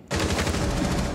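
Hip-fire gunshots in a first-person shooter video game, a sudden, loud, continuous automatic burst of rapid rounds that starts abruptly and carries on without a break.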